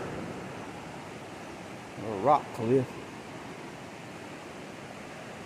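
The Nolichucky River flows below a rock cliff near Johnson City, Tennessee, a faint, steady wash of running water heard from a distance, with a short spoken phrase partway through.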